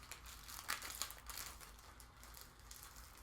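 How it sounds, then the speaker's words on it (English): Plastic packaging of a fretboard protector for a ukulele is torn open by hand, a faint, close crinkling and crackling rustle that swells briefly then settles into softer handling noise. "Should be able to rip it open"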